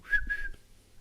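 A person whistles a short two-note tune imitating a TV character's signature whistle; rising then falling, close and clear, with no talking.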